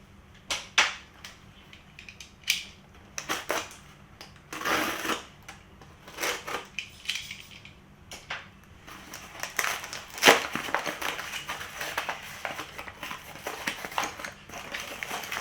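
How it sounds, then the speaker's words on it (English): Hands rummaging through a box of bolts, casters and washers for a K-Tool adjustable work table, sharp metallic clinks and rattles in irregular bursts, close by. "This is the box here that has the bolts and casters and washers."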